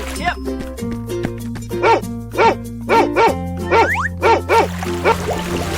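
Cartoon dog barking in a steady series of short, evenly spaced yaps over a bouncy music track, loud and close.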